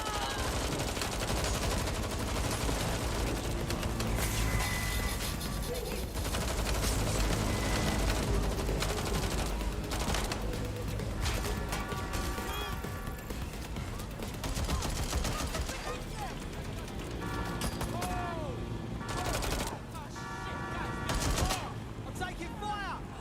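Repeated bursts of automatic and single gunfire in the video game Watch Dogs Legion, loud and dense for over twenty seconds, mixed with game music, effects and occasional character voices.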